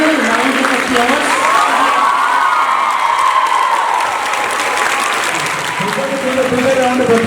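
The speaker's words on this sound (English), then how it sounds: "Louder round of applause" A school annual day audience gives teachers and backstage staff a loud, sustained round of applause, dense clapping mixed with cheering that carries steadily without a break.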